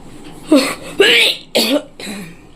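A woman coughs four times in a row, harsh and close, each burst short and forceful with brief gaps between, while she feels unwell.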